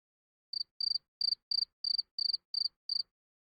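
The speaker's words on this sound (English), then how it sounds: "listen to the crickets once again" Crickets chirp in eight short, evenly spaced bursts, each a rapid trill of pulses, clear and fairly close against otherwise silent background with no talk.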